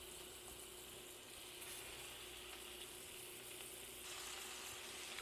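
Swedish meatballs fry in a pan with a steady, dense crackling sizzle, close and even throughout without talk.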